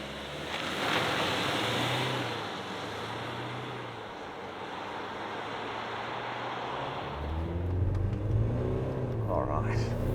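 A 2024 GWM Cannon XSR ute accelerates hard from a standstill in cross-country expert mode with traction control off, its engine droning and rumbling through rising gears inside the cabin while someone talks over it.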